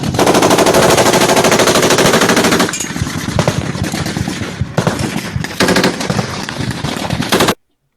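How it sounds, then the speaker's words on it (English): An ambush caught on recorded footage: a loud, dense stretch of rapid automatic gunfire, then more scattered bursts and single sharp shots that end abruptly, with no voices. "Launch RPG now."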